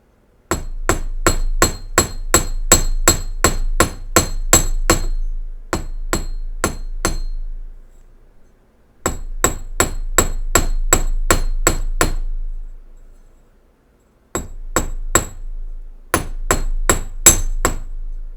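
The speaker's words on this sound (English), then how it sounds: "hammer to your liking or not" A small hammer taps wire Celtic cross earrings in rapid bursts of sharp metallic strikes, close and loud, pausing briefly between runs, with no voices.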